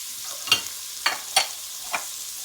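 Garlic, carrots, broccoli and cauliflower stir-frying in too-hot oil for a vegetable stir fry: a soft, steady sizzle broken by four sharp clacks of a utensil against the pan, close and alone.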